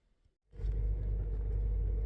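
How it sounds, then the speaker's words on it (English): A Ford C-Max hybrid engine starts up after a near-silent moment and settles into a steady, rough, low rumbling idle close by. "So you can probably hear how rough my engine's running right now."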